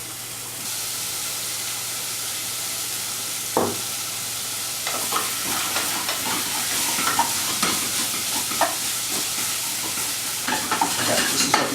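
Onions cook in a pan with a steady frying sizzle and hiss, joined by intermittent scraping and stirring clatter that grows busier partway through, with no talking.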